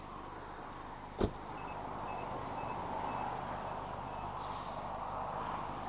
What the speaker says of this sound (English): car's just beeping at me because I've got the key and it's still running.